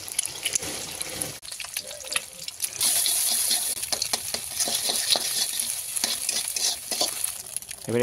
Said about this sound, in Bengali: তুলে নিয়ে এবার এতে ডিমটা ভাজবো